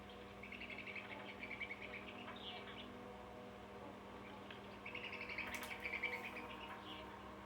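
Seriti swiftlets call in a quiet night scene inside a house, a thin high chittering heard in two faint bursts over a steady low hum and insect-like drone.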